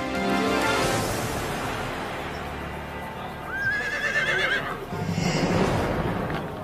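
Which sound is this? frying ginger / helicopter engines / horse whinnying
horse whinnying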